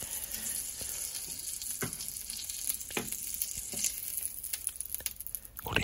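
Steady sizzling of cod roe on a hot grill, a dense crackling hiss with scattered sharper pops, close and moderately loud, no voices.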